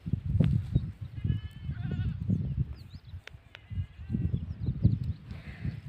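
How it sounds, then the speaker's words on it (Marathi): Several sheep bleat repeatedly at close range, overlapping calls rising and falling over a low shuffling background, with no talking. "एकदम मेंढ्या मेंढ्या मेंढ्या मेंढ्या मेंढ्या"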